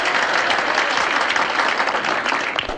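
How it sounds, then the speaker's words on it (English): An audience claps loudly and continuously for a few seconds, a dense wash of applause that tapers slightly at the end. "Big round of applause for Martha."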